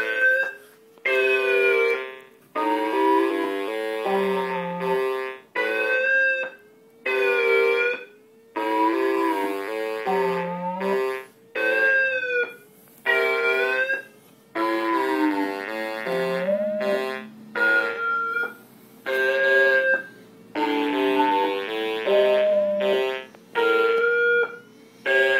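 Tracks sequenced on a Nintendo DS-10 play together with an analog synth, giving a dense run of bright, buzzy synth phrases and chord stabs in repeating bursts with short gaps, loud and steady with no talking.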